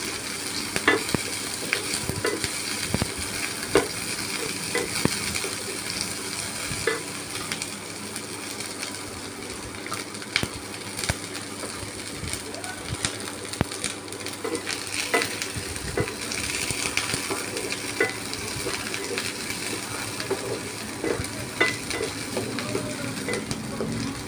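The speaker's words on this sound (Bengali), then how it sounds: "পেঁয়াজটা একটু ভাজা ভাজা হয়ে গেছে, কাঁচা গন্ধটা চলে যাবে" Onions fry in a pan with a steady sizzle, broken by repeated scraping and clanks of a spoon stirring throughout, close and fairly loud, with no voices.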